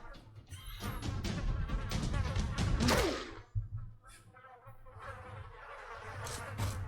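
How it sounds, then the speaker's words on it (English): Insects buzzing loudly and continuously in the Goblin Stone video game, a droning hum that swells and dips with faint speech under it. "Man, these flies are so loud,"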